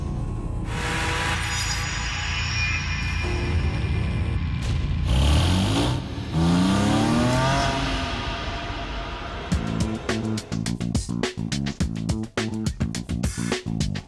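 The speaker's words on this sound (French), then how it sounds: "En 2013, la Porsche GT3 Cup type 991 se renouvelle." A 2013 Porsche 911 GT3 Cup type 991 race car engine roars and rises in pitch through a loud revving sweep, then gives way to sharp rhythmic bursts of sound.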